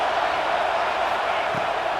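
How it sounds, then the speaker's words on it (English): A stadium crowd at an American football game makes a dense, continuous roar, loud and unbroken, with faint voices mixed into the din. "This crowd trying to make life miserable for this offense"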